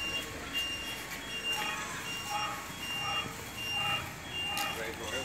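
A city maintenance truck from the Natal municipal team arrives on a street in the Bom Pastor neighbourhood, its reversing alarm beeping in a steady repeating rhythm over engine rumble and street noise, with voices in the background.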